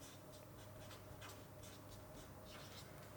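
Pen or marker writing a short word on a board or paper, faint scratchy strokes in short bursts over a steady background hiss, close and quiet.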